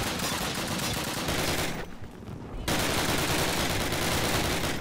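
Sustained automatic gunfire rattles through a Call of Duty firefight, with dense bursts filling most of the stretch and a brief drop to quieter sound partway through before the shooting resumes at full volume.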